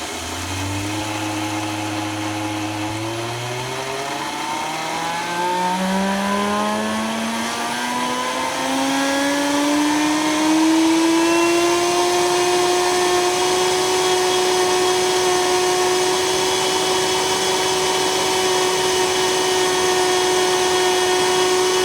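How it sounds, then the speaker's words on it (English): A blender running continuously as it grinds oats into flour, a loud motor whine that climbs in pitch over the first dozen seconds and then holds a steady high drone, with no talking. "I can tell you that it does not take 30 seconds to grind this into flour."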